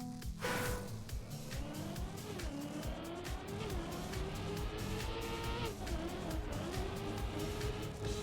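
Race car in Trackmania with a droning engine and a brief brake tap, tires squealing as the pitch shifts, loud and close throughout.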